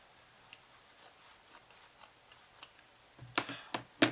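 Scissors snip through paper in a craft setting for a stamping project, a run of faint, evenly spaced cuts ending in a few louder, closer crunchy snips.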